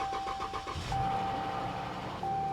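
A car engine cranks briefly and catches, then settles into a low idle, while a steady warning chime sounds from the dashboard.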